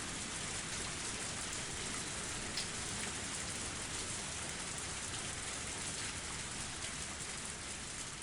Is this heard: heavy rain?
yes